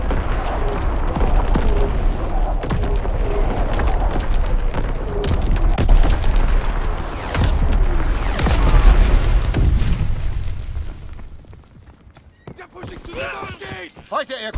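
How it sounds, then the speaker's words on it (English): Enemy artillery explosions in the video game Call of Duty: WWII, repeated heavy booms and gunfire bursts over several seconds, fading to quieter sounds with a voice near the end. "Incoming enemy artillery."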